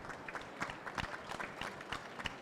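Conference audience applauds in a hall, scattered claps coming through faint and fairly distant over a low crowd murmur for a couple of seconds.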